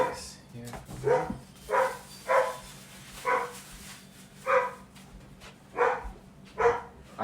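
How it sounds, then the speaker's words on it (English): A pet dog named Akira barks repeatedly in evenly spaced bursts, fairly close and loud, roughly once every second, while a steady low hum runs underneath and a person speaks briefly near the start. "Freaking dog."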